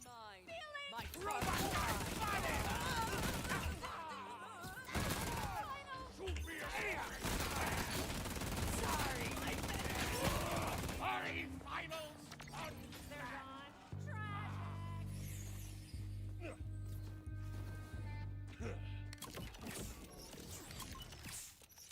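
Rapid SMG fire in the Borderlands video game, loud bursts of automatic shots mixed with mechanical clatter and game effects, with speech heard over it.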